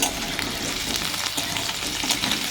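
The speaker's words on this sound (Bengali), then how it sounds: "এবার আলু করে দিচ্ছি আলুটা ভাজছি" Steady, crackling sizzle of potatoes frying in a hot pan, close and continuous with no voices.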